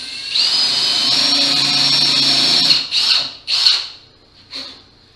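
A power drill whines steadily for a couple of seconds while drilling wood for a small bench, then revs in short bursts and stops, close to the microphone.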